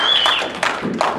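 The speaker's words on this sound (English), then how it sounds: "Nice golf clap, thank you." A few sparse, light hand claps, a polite golf clap from a small group at a school board meeting, soft and scattered rather than full applause.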